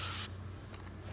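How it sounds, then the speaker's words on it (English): A short burst of the stealth spray in Ghost Recon Breakpoint gives a bright, close aerosol hiss lasting about a quarter second, then fades into quiet game ambience. "So I'm going to use my stealth spray"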